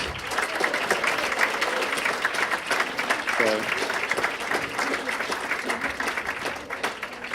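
Wedding guests clap warmly and continuously for Rebecca, the baker of the wedding cake, a thick even wash of applause from a full room with voices faintly audible through it.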